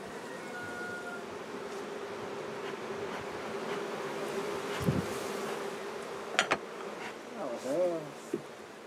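Honeybees buzz around hives being cleaned before transhumance, a steady low droning hum throughout, joined by a few brief sharper knocks and a short voice-like sound near the end.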